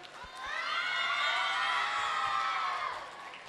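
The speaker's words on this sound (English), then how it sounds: "So give them a big round of applause." School annual day audience, many of them children, cheering and whooping loudly with applause after a dance performance, the crowd noise swelling quickly and holding strong before fading slightly.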